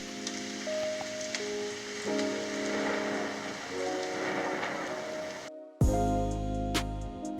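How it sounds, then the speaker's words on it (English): Steady rain from a storm-sounds app patters against a surface over a low rumble, then briefly cuts out before resuming with a deeper, louder wash of storm noise. "being able to listen to the storm 24/7"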